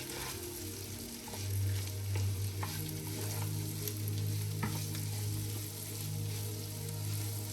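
Cantonese fried rice with onions stir-fries in a pan, giving a steady, close sizzle with occasional scrapes from stirring and a low hum beneath it, and no one speaking.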